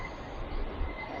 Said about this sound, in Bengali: এই ব্রিজের উপর দিয়ে কিন্তু এই এক্সপ্রেস ট্রেনটা আসলো